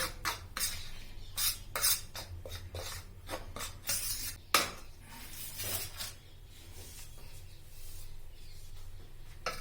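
Mashed garlic, ginger, chilli and peas mixed together in a bowl, giving a run of scraping, clinking strokes that come in uneven bursts, close and fairly quiet, with no talking.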